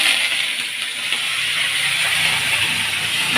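Mustard seeds, cumin, green chili and curry leaves crackling in hot oil on a pan, a loud continuous hiss with no voices.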